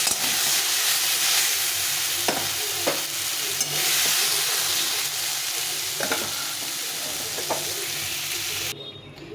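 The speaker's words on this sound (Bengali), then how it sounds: "আলু আর সয়াবিনটা ভেজে নিয়েছি ভালো করে।" Potato pieces and soybean chunks fry in a pan of oil with a loud, continuous sizzle, broken by scraping stirs of a spatula, easing off near the end.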